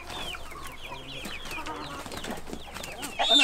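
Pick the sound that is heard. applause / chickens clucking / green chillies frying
chickens clucking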